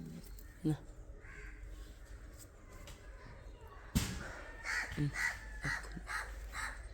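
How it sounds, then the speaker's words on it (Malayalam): Crows cawing outdoors, a series of harsh caws clustered after a sharp thump, standing out over steady background noise. "എന്നിട്ടൊരു കാക്കച്ചാറ് വന്നിട്ടിരിക്കുന്നുണ്ട്"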